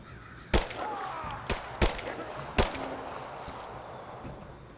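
Gunfire in the video game Rise of the Tomb Raider, four sharp separate shots at irregular intervals over a quiet ambient background.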